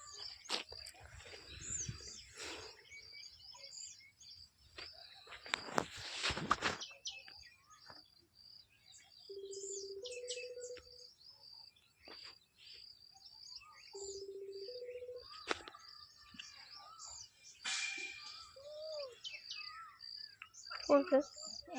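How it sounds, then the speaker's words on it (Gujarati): Small birds chirp and tweet in a quiet village setting, with scattered short calls near and far, a few louder rustling bursts and brief two-tone beeps in between, and no talking. "પેલા પક્ષીનો અવાજ કેવો મસ્ત છે"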